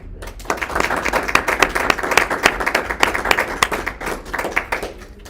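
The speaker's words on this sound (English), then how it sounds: "if we give a quick round of applause to Cider and Smokestacks for putting on this event, that would be great" An audience at a food and drink festival gives a steady round of applause for a cider event's organisers; dense clapping from many hands lasts throughout at a moderately close, even level.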